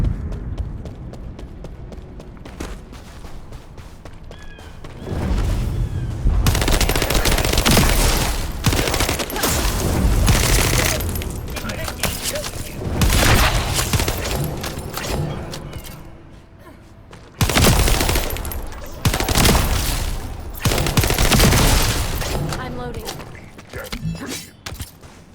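Rapid automatic gunfire while shooting enemies in the video game The First Descendant, loud bursts in repeated volleys amid game effects, with a voice talking over parts of it.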